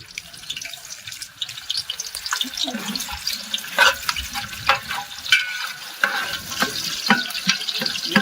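Onion hisses and crackles as it fries in a pan for a big batch of mutton curry, with bursts of sizzle, scraping stirs and splashing water noises.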